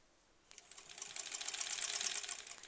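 Sewing machine stitching a quilt border seam through layered fabric: a few faint ticks, then a steady, rapid mechanical whir that builds and stays quiet, with no voices.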